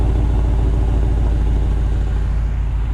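1969 GMC 4x4 truck with a 5.3 LS engine and dual exhaust idling, a steady deep rumbling drone with an even low pulse, loud and close throughout.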